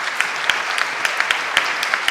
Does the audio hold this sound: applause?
yes